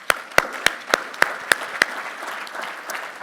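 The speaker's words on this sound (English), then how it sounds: "So let's give him a round of applause" Applause at a commercial roofing business panel: seven crisp, evenly spaced claps close to the microphone stand out over softer crowd clapping, which then trails off.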